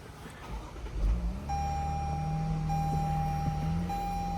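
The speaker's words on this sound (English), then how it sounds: "start it up and take it for a drive" A Lexus LX600 engine turns over via push-button start and settles into a steady idle, with a thin electronic chime tone running above the low hum.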